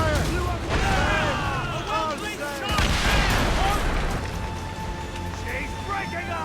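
Ship cannons fire in an Assassin's Creed Rogue naval battle, heavy booms rolling out in several salvos amid shouted commands and battle chatter.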